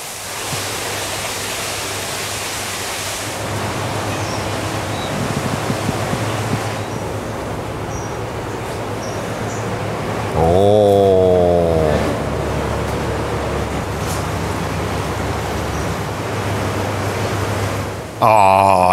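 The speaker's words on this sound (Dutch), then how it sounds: "En dan sta ik hier weer een waterval, dames en heren." A zoo waterfall rushes in a steady, broadband roar that fills the whole stretch, with a brief louder swell and a few faint passing sounds over the constant water noise.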